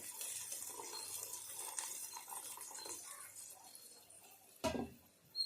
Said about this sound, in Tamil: முருங்கைக்கீரை போட்டு கொதிக்க வச்சிருந்த தண்ணி ஊற்றிடலாம்